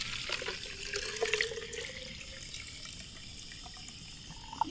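Water from melted snow is poured into a container at a winter camp in Yosemite, a steady splashing trickle running for several seconds, fairly faint against outdoor background noise, with no talking.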